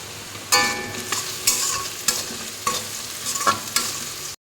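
Onions sizzle in a hot pan while a spoon scrapes and stirs them in repeated strokes, close up and fairly loud.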